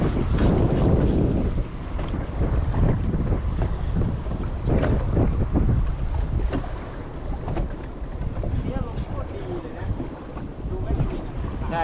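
Strong wind buffets the microphone at sea aboard a squid-fishing boat, a loud continuous roar with water sloshing against the hull throughout.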